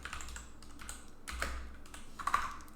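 Typing on a computer keyboard during a live bug bounty recon session, quiet clustered keystrokes in short irregular bursts with no talking.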